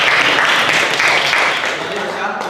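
Applause from a class or audience during a broadcast arts teaching session, a loud, dense burst of clapping that stays strong for a couple of seconds and then eases slightly.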